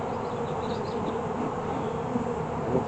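Honeybees humming at a beehive, a steady dense drone with no pauses, fairly close and unbroken throughout.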